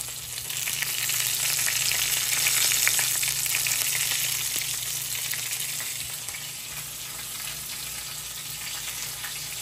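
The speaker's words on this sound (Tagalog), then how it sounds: "Ngayon naman po ay magpiprito ako ng paborito ko," Vegetable spring rolls (lumpiang gulay) fry in hot oil with a steady, dense sizzle and crackle, close and continuous throughout, with no talking.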